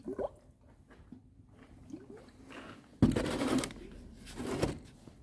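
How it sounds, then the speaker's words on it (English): Coolant is poured through a funnel into a car's radiator reservoir: soft trickles and drips at first, then a louder gurgling pour that continues to the end. "Then we have to fill the reservoir also."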